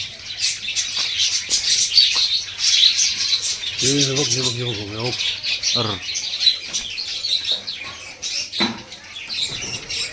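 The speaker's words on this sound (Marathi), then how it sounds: "हे चिमण्या आहेत" Busy, high-pitched chirping of many small birds fills the scene, with a brief voice-like call in the middle.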